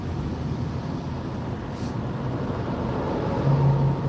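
Steady highway traffic rolls along the I-4 eastbound corridor between Lakeland and Orlando on a Monday morning, a continuous low road rumble with a brief tonal hum near the end.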